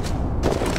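Gunfire rings out in a shooter video game during a sniper-stage event: a dense, sharp crackle of shots fills the brief moment, loud and close, with a burst of extra intensity near the end.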